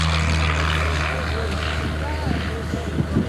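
A propeller aircraft takes off at the Shoreham airshow, its engine drone steady and fairly loud throughout, with a narrator speaking over it.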